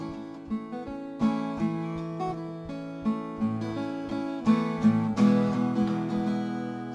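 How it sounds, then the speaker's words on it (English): A guitar plays a melody over chords at the same time, clear plucked notes ringing over strummed and picked harmonies in a moderate, flowing rhythm, close and solo with no talking. "So you can hear the melody with the chords being played at the same time."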